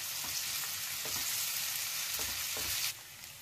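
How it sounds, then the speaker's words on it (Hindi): Onion, dried red chilli, ginger and garlic fry in hot oil for a jackfruit curry, a steady close sizzle with occasional stirring scrapes. "इसी टाइम इसमें हम डाल देंगे ये लाल सूखी मिर्च और अदरक और लहसुन, इनको भी हम प्याज के साथ ही भून लेंगे।"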